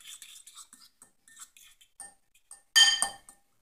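Eggs with basil are stirred in a dish, giving a run of light scraping clinks of a utensil against the dish, with a louder ringing knock near the end.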